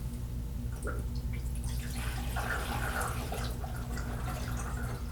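Water flushes through the tubs of a roller-style film processor with the agitators removed, a continuous soft running and trickling wash over a steady low machine hum, close and even throughout.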